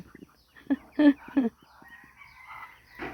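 Bantam chickens in a backyard garden give a few short, loud clucking bursts, followed by a softer drawn-out crowing or calling tone, close by with no talk over it.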